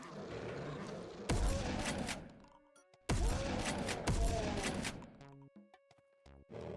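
Shotgun fire in the video game Resurrection of Dawn: loud, heavy blasts arriving in two close pairs, each with a sharp crack and a booming tail, separated by quieter game ambience.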